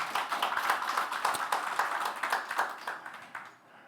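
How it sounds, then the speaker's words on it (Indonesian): Congregation clapping at a church sermon, a moderate patter of many hands that stays steady and then thins out and fades toward the end. "Yang mengerti setuju tepuk tangan."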